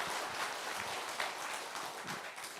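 Audience applause at a Buddhist broadcast lecture event, a dense steady patter of clapping filling the space with no talk over it.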